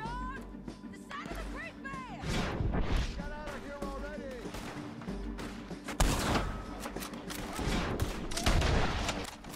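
Scattered gunshots ring out in the Red Dead Redemption 2 video game, sharp cracks spread through the stretch amid game noise, with someone talking over parts of it and a cat-like whine.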